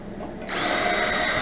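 A power drill starts up and whirs steadily while driving screws out of a quartz space heater being scrapped, a loud continuous buzzing whine close by after a brief quieter moment.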